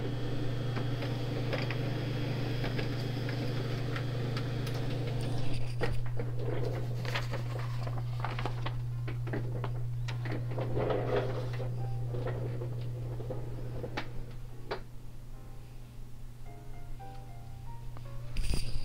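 A Samsung Xpress M2625D laser printer prints a page with a steady mechanical hum, clicking and ticking as paper feeds through, close and moderately quiet, with no talking.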